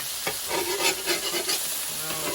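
Blackened sea bass sizzles steadily in a hot pan just after being flipped, with a short scrape from the spatula at the start and a close, even crackle throughout.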